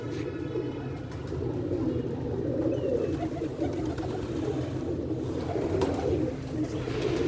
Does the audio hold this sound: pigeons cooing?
yes